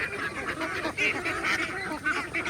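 Free-range ducks eat feed with a busy chorus of close quacking and honking calls that overlap without a break.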